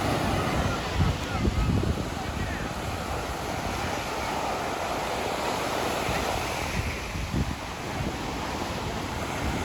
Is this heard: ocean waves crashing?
yes